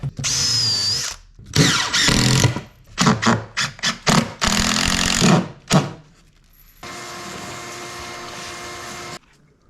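A drill drives screws into a patch on the cabintop of a wooden boat. Several loud, close whirring bursts of varying length are separated by short pauses, followed by a steadier mechanical hum near the end.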